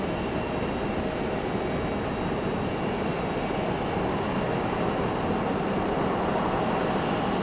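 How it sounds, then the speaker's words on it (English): An American Airlines Embraer E175 jet taxis toward the runway at Raleigh-Durham airport, its engines a steady loud broadband roar with a faint high whine, unchanging throughout. "E175 from American making its way out to the runway"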